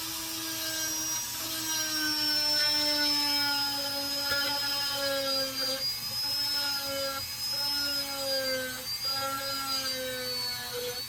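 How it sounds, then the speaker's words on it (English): A handheld router cuts into material for a front-yard alien decoration, a loud steady high-pitched whine with shifting tone as the bit bites, running continuously close up with no talk. "I'm just going to router this out"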